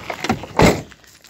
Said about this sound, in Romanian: Ia închide ușa.